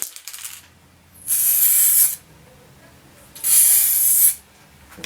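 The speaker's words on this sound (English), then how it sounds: "hold it over and spray paint to see what kind of effect that will give" Two bursts of aerosol spray paint hiss close by as paint is sprayed over leaves, each lasting under a second, separated by a quiet pause.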